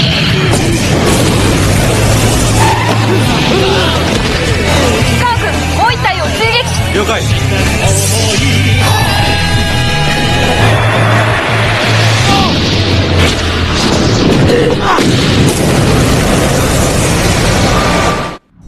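Explosions and booming blasts from an upgraded weapon in a Kamen Rider Agito battle, loud and dense throughout with crashes and bursts, layered over music and talk.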